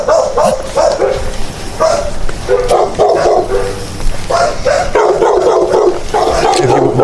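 Several dogs bark and yip indoors in a house, loud and close, in repeated bursts with some whimpering, while people talk over them.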